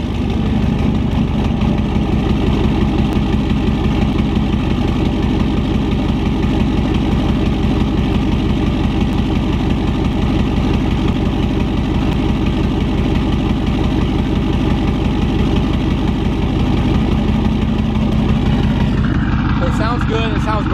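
A truck engine idles steadily and close by, with a rough, continuous low rumble throughout, suspected of running on bad fuel; a faint voice is present.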